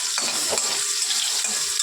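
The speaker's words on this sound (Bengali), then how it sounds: "ওই সবজিগুলোকে ভেজে ভেজে তুলে রাখছি" Mixed vegetables, including carrot, fry unsalted in a pan, a loud, close burst of sizzling oil mixed with quick stirring scrapes against the pan.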